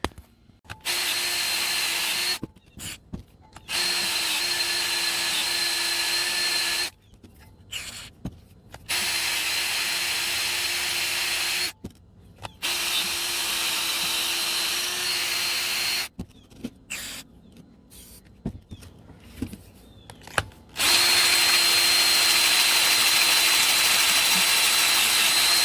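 Power drill boring into the flywheel bolts of a 3800 engine, running in several long loud bursts separated by short pauses, the last burst steady and slightly different in pitch; no talking.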